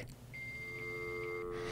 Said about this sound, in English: You should be able to hear your dial tone,